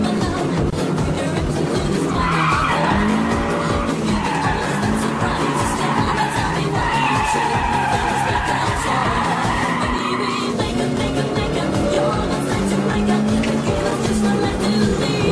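A car in the arcade racing game Maximum Tune skids through mountain corners, with long tire squeals over a revving engine and bursts of acceleration, loud and continuous throughout without any speech.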